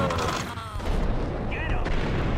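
Grenade explosion in the Max Payne video game, a loud, heavy rumbling blast layered with gunfire-like crackle and a high whine, with talk over it.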